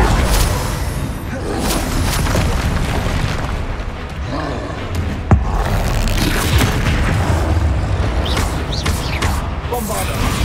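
Bombarda spell explosions in Hogwarts Legacy, booming blasts in dense, loud combat with a sharp crack midway, overlaid by crackling debris and a voice speaking.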